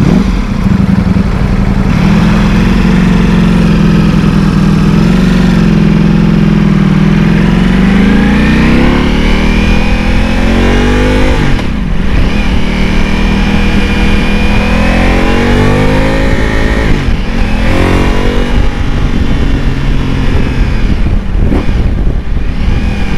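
A Ducati motorcycle engine, heard loud and close during a test ride, revs steadily for over twenty seconds, its pitch climbing and dropping through several throttle sweeps with a brief dip midway.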